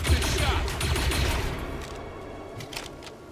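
Gunfire in the turn-based strategy game ZCom on maximum difficulty, a short burst of shots loudest at the start and tapering off over a few seconds, with a game voice briefly underneath.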